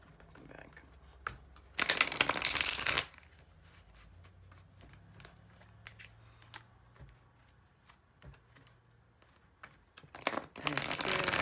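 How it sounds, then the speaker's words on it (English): Tarot cards are shuffled in two loud bursts of riffling, one early and one at the end, with quiet taps and rustles in between. "I'm just going to move these for a second just so I can shuffle."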